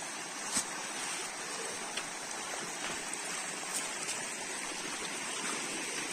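Water of a mountain stream rushing along a hiking trail in the Polish hills, a steady broadband hiss heard from close by, moderately quiet and continuous, with no voices.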